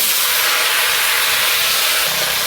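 Bottle gourd greens frying in oil with mustard seeds, dried red chili and whole garlic, giving a steady, loud hiss and sizzle that holds even throughout with no talk.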